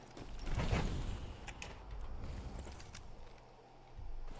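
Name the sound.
door opening in Outpost Infinity Siege video game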